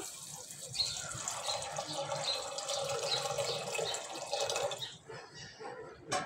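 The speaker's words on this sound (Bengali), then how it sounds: "এবার দিয়ে দেবো ওর ভিতরে জল" Water pours steadily into a pressure cooker holding peas and potatoes, a close splashing stream under a woman's speech, then tapering off near the end.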